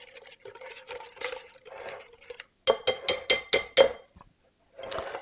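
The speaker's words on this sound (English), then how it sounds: "Whisk this all together." A whisk beating salad dressing in a bowl, close and fairly quiet: bursts of light clinking stirring, then a quick run of about six sharp rhythmic taps against the bowl side, one final clink after a pause.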